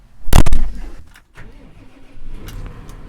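A heavy tractor engine cranks with a sharp loud burst, then settles into a low rough idle with some clunking nearby.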